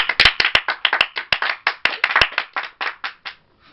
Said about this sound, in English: Can we take a second to give a round of applause